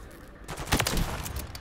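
Rapid burst of gunfire from the XRK Stalker in Modern Warfare 3, a few close, loud cracks blurring together over about a second of game audio.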